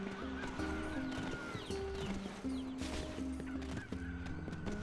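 Chicken squawks from the video game Nier, a run of honking, strained fowl calls repeating in uneven bursts at moderate loudness over a steady game background.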